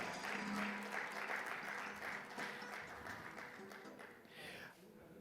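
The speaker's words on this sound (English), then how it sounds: "Please give a round of applause." An audience claps at a conference event in Mumbai, a steady, dense wash of many hands that starts full and gradually thins toward the end.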